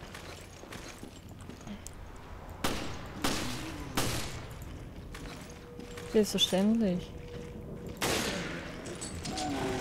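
Bursts of gunfire in Resident Evil: Revelations crack out at intervals over a steady background, with a voice briefly speaking and a few shorter pops in between.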